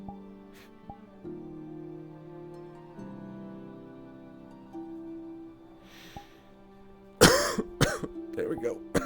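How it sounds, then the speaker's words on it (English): A few sharp, loud coughs burst out near the end after a stretch of quiet background tones, clustered close together. "I was waiting to cough."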